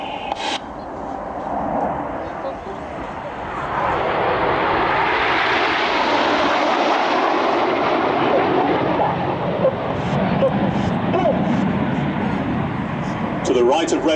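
Red Arrows aerobatic jets fly past at the Biggin Hill airshow, a loud roaring jet rush that swells and holds, with a commentator talking over it.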